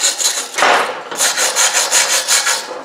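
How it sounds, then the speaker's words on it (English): A wire brush scrubs a weld on an aluminum engine block, close rhythmic rasping strokes, one long stroke followed by a series of quick, even back-and-forth scrubs. "I'm going to try to clean this up a little bit with a wire brush and see what the weld itself looks like."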